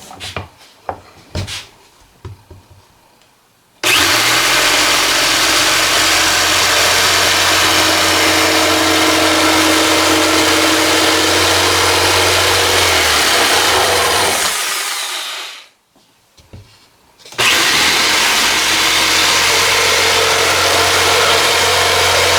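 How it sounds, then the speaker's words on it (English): A jigsaw cuts through a board for a laundry sink shelf, loud and close, running in a long continuous buzz, pausing briefly, then starting again after a few handling knocks. "Now we'll cut that out, and I'm going to use a jigsaw."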